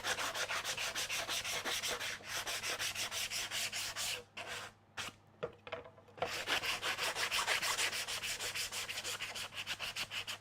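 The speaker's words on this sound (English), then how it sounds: "I'm going to give this other part a quick sand." Hand sanding of a wooden CNC-carved part: steady back-and-forth rasping strokes in quick rhythm, pausing briefly midway with a few scattered scrapes before the strokes resume, close up and alone.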